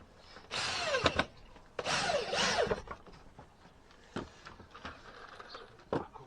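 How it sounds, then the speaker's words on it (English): Bursts of a power drill driving screws into a garden deck, whirring in short runs, two longer spins followed by brief quick taps, fairly close with quiet pauses between. "I'm using a drill just now."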